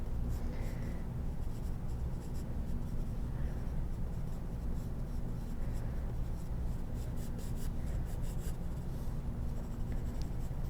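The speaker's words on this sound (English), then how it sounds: "So now I'm just going in and drawing lightly what I see." A pencil lightly sketches a portrait on paper, giving a continuous soft scratching and rubbing with small irregular strokes, close and steady throughout.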